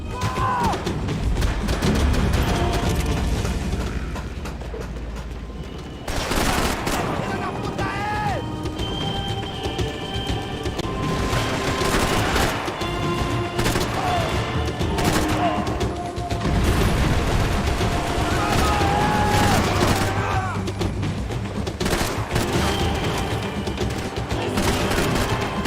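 Gunfire in the Max Payne 3 shooter game, dense bursts of shots, crashes and booms continuing loudly and steadily throughout amid busy game effects.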